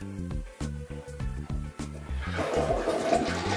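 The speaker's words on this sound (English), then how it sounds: "So let's give it a test flush." Test flush of a newly installed toilet: a rumbling gush rises into a sustained rushing swirl of water, close by, heard alone after a few seconds of rhythmic tonal sounds at the start.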